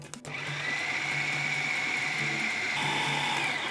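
A blender grinds chickpeas for Lebanese hummus with tahini, running as a steady, close, loud whir from start to finish with no talking.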